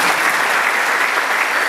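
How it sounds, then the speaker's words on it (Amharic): A church congregation applauds steadily and close, a dense unbroken wash of many hands clapping at a fairly loud level with no pause. "አጨብጭቡ።"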